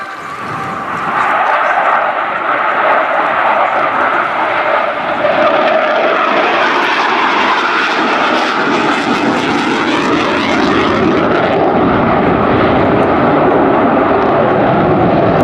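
Military aircraft flying a display at the Royal International Air Tattoo, RAF Fairford, in 2017, with a loud sustained engine roar that swells and shifts steadily as the plane rolls through the sky.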